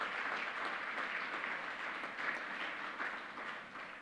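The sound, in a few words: audience applause for honorees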